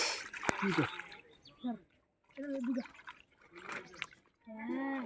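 Water splashing as a big snakehead fish is caught in a shallow pool crowded with fish, a sharp splash followed by further sloshing bursts, with people talking throughout.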